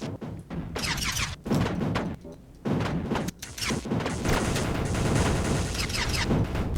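Enemy units firing in the video game Mindustry: loud, dense bursts of gunfire and booms in rapid succession, with brief gaps between volleys before a sustained barrage rolls on to the end.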